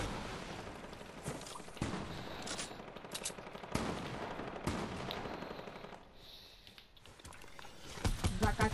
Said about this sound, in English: I'm getting shot from the wall